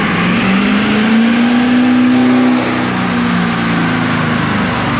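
An LML Duramax diesel truck engine on a dyno at its maximum tune setting holds a loud, sustained high-rpm roar with a rising tone that then eases off slightly and continues.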